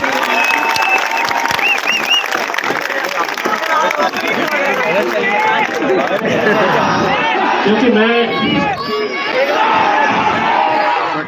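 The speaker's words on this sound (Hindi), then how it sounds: "तो एक जोरदार तालियां अपने खुद के लिए बजा दीजिए।" Political rally crowd in Aurangabad cheering and clapping loudly and continuously, dense and near, with shouts and voices mixed in throughout.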